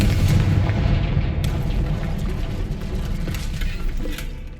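A Confringo spell blast in the Hogwarts Legacy video game sets off a loud, booming explosion at the start, and a rumbling, crackling roar then slowly fades with scattered smaller pops.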